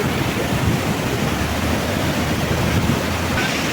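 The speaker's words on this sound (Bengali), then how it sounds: "এই ওয়াটারফলস থেকে নেমে আসা এই জলের স্রোত" Hundru waterfall near Ranchi pours in a loud, steady roar of rushing water, a dense broadband wash that holds constant from start to finish with no voices over it.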